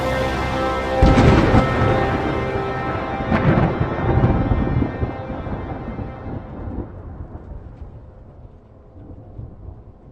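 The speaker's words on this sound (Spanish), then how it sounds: "sé que oí el estampido de los truenos" A loud crack of thunder breaks out, followed by a long rolling rumble that slowly fades away, with light rain underneath.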